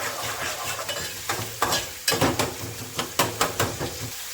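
An onion hitting a hot pan on a raised gas flame sizzles steadily, with a spoon scraping and stirring at an irregular pace and several sharper clinks of utensil against pan.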